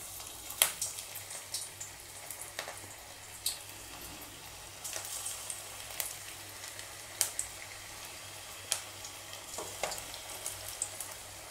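Bread vada frying in hot oil over a medium flame, a steady quiet sizzle broken by periodic sharp crackles and spatters as pieces hit and bubble in the oil.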